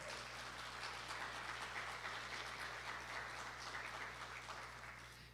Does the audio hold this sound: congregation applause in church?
yes